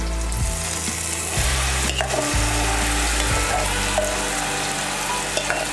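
Loud, steady sizzling of a freshly ground spice paste frying in a hot pan for Maharashtrian tomato saar, with scraping stir sounds now and then, no voices.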